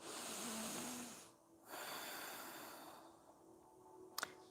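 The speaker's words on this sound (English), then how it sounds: "Breathing through your nose." Slow nasal breathing during a seated yoga twist, soft airy inhales and exhales close to the mic, with a brief quiet pause midway and a faint click near the end.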